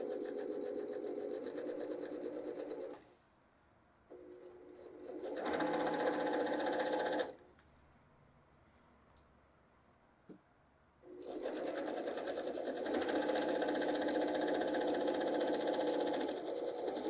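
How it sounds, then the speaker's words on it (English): Sewing machine stitching two strips of fabric together for a table runner, running in two loud steady bursts separated by a quiet pause with a faint click, then a third long continuous run. "I'm going to stitch my 2 pieces together"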